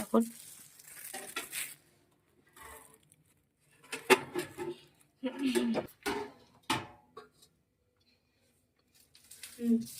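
Packet of sweets, a box of jaggery rasgulla and sandesh, being opened up close, heard as scattered crinkling and rustling handling noises between pauses, with someone talking intermittently.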